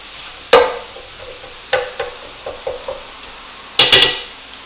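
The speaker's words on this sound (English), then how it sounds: "Better give them a little stir." Lentil patties with onions being stirred in a frying pan: a few sharp utensil knocks and scrapes against the pan at irregular intervals, close up, over a faint sizzling background.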